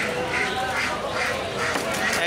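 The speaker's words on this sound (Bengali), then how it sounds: "এই যে অনেক চীনা হাঁস হচ্ছে" Chinese ducks at a busy open-air bird and pigeon market, with repeated quacking in short bursts rising over steady crowd chatter and people talking nearby.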